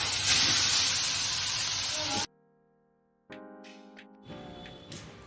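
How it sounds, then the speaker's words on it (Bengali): Grated carrots poured into hot ghee in a wok for carrot halwa, giving a loud broadband sizzle and hiss for about two seconds, then a brief quiet gap before softer frying and stirring noise returns. "ঘিটা গরম হয়ে গেছে গাজরটা ঢেলে দিচ্ছি"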